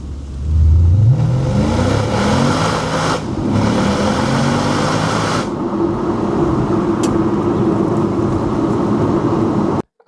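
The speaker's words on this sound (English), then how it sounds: "You have that nice exhaust note when you need it." A 2011 Porsche Panamera S V8 accelerates hard with a loud, close exhaust note that climbs through the revs, shifts, and keeps roaring steadily before cutting off abruptly.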